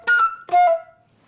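Flute sounding two sustained notes, the first held briefly and the second longer with a gentle fade, played full value rather than clipped, alone with no talking.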